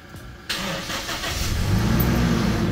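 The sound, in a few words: Toyota Innova engine starting after jump start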